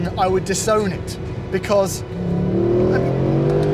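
A Mercedes-Benz SLS AMG's 6.2-litre V8 starts a deep, rising rev that builds loud and close in the final seconds, following a man's speech.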